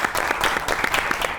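An audience on a comedy talk show claps for two guests, dense, steady applause lasting the whole moment with no voices over it.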